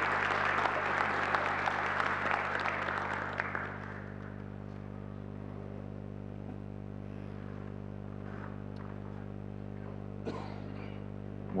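Audience applause after a conference talk on network management, clapping for about three and a half seconds before stopping abruptly, leaving a steady electrical hum and a faint later bump.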